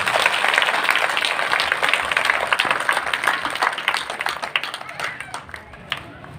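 A crowd claps with hands raised at a political rally in Bhadra, Rajasthan, where a candidate announces his assembly election run; dense, loud clapping fades gradually over several seconds.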